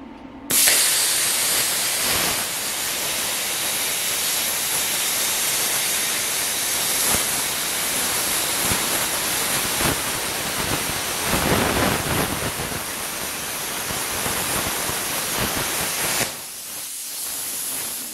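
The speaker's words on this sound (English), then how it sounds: "I'm going to cut the curved part out with a plasma cutter." A plasma cutter slices the curved section from a steel spring perch bracket, giving a loud, steady hissing roar that starts abruptly and runs about fifteen seconds before cutting off.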